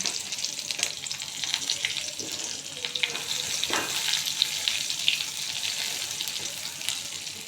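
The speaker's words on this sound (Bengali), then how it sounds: "তেলটা গরম হয়ে গেছে, তেজপাতা দিলাম, জিরা আর হলো পেঁয়াজ কুচি" Bay leaf, cumin and chopped onion frying in hot oil, a steady close sizzle with crackling pops and occasional stirring scrapes, no voices.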